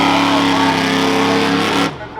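A 1979 Ford F100 modified truck roars hard around a rough truck course at the Hartford Fair, its loud, steady engine drone holding close before cutting off abruptly near the end.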